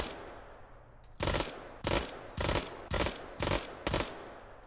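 Uzi Nano submachine gun fire in the VR game Hot Dogs, Horseshoes and Hand Grenades: six short, sharp bursts of rapid automatic shots at even spacing, loud and close, with quiet gaps between them.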